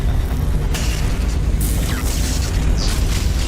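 A loud, sustained explosion rumbles in a space-themed interactive game, filling the clip with a heavy boom and crackling debris-like noise.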